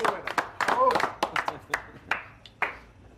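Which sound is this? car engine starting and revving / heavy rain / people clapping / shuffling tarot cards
people clapping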